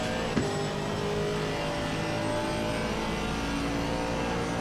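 A race car engine holds full throttle up a short night-time climb in a sim racing game while chasing a Bentley, a steady loud drone with a single brief knock near the start.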